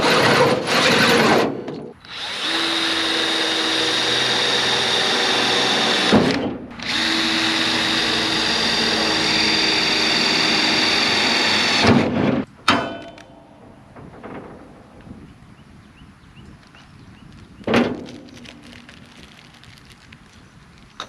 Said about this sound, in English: Now we just have to drill through the cross member.